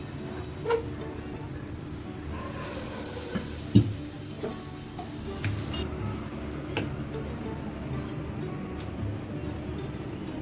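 A paratha fries in a pan with a little oil beside a cooking chicken dish, giving a soft steady sizzle broken by a few light scrapes and taps, with faint background voices.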